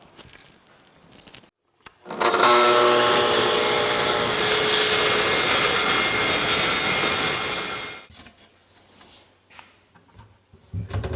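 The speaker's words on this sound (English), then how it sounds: "then we'll move over and we'll cut this with the track saw" A track saw spins up with a rising whine and cuts through a wood panel for about six seconds, a loud steady roar that winds down, with quiet shop sounds before and after.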